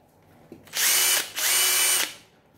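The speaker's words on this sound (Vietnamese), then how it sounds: "Chế độ khoan bê tông." Power drill set to concrete hammer-drilling mode runs in two loud bursts of about half a second each, separated by a short pause, with a faint click just before the first burst and no talk.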